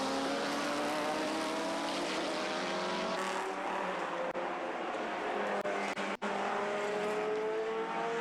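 Le Mans prototype and GT race cars scream past on a circuit during an endurance race, several high-revving engines overlapping in a loud, sustained roar with shifting pitch as cars pass close by.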